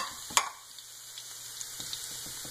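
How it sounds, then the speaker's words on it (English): Garlic sautéing in two tablespoons of oil in a pan for chicken curry gives a faint, steady sizzle close by, with a sharp clink near the start and a few soft stirring taps later on. "saute some garlic with 2 tablespoons"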